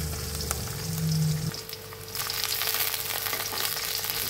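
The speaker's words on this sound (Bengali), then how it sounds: "আর এই যে পেঁয়াজটাকে তো ভাজা ভাজা করে নিচ্ছি" Onions fry in a pan as the base for a fish curry, giving a continuous close sizzle with a faint steady hum underneath.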